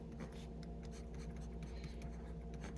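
Pen or marker writing out a binomial multiplication, heard as soft, rapid scratching strokes in close succession over a steady low background hum.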